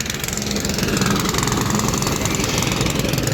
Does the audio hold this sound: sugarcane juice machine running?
yes